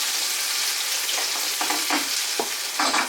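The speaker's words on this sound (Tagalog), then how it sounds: "Nagluluto pala si Michelle sa likod. So, medyo maingay yung ating vlog." Food sizzles steadily in a pan while cooking, with several sharp scraping stirs and clatters breaking through the constant frying hiss; no one speaks.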